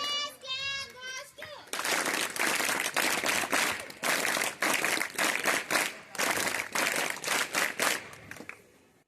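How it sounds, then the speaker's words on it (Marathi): Loud applause from an audience at a college NSS special camp inauguration program, steady rhythmic clapping bursts sustained for several seconds after a brief spoken voice at the start. "त्याकरता पण एकदा जोरदार टाळ्या होऊ द्या."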